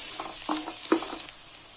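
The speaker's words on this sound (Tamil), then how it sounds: "வெங்காயத்தை நல்லா வதக்கிக்கோங்க." Onions sautéing in a pan for chicken gravy, a bright steady sizzle with a couple of quick spatula scrapes, close and brief.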